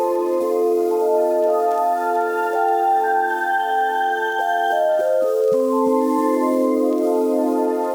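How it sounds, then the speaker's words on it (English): A Falcon synth patch run through the new granulizer on its Shimmer preset gives a bright, layered, sustained chordal texture with shifting overtones, smooth and pad-like, with no voices over it. "Now we're going to add the new granulizer, and I picked one of the presets called Shimmer"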